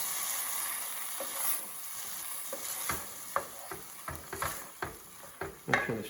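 A spoon stirs Keralan coconut curry in a pan, a soft sizzle running underneath as a series of scraping, knocking strokes grows more frequent and louder toward the end.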